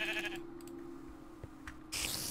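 Minecraft sheep bleats briefly a couple of times amid quiet background hum, with a louder noisy burst at the end.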